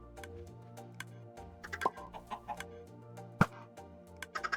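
Chickens cluck in Minecraft, a string of short clucks and ticks scattered irregularly over a steady low in-game hum, with a louder sharp cluck near the middle and no talking.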